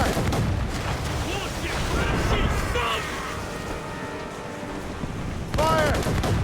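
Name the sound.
ship mortar fire in video game Assassin's Creed Rogue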